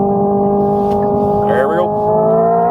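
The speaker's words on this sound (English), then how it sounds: "if you gear down, if it lets me, it actually rev matches, which is hilarious" Engine of a Hyundai Ioniq 5 N rev-matching on a downshift, a sustained droning synthetic engine tone that briefly swoops and blips upward, with a person talking over it.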